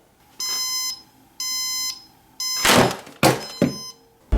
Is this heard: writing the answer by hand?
no